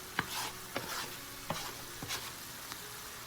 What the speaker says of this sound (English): you're gonna be adding the cooked peppers and onions back into the mix